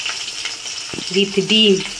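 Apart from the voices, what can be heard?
hilsa fish frying in a pan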